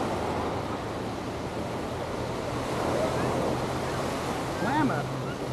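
Surf rolling in at Waikiki Beach, a steady broadband wash with gusts of wind buffeting the microphone, plus a faint low engine hum from a boat offshore.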